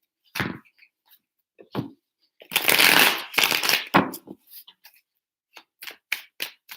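Tarot cards shuffled by hand in a series of crisp riffling bursts with short pauses, close and clear, with a few light ticks and taps between shuffles.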